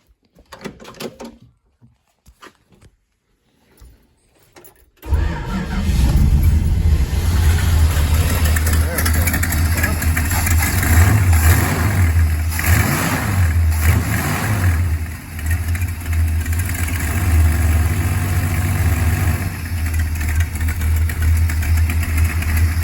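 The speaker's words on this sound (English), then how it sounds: "give her a couple squirts of gas and she should fire up" A Dodge with original points and a newly installed FBO ignition box fires up after a few quiet clicks, then runs loud and close with a rumbling idle and some revs, with a voice at times.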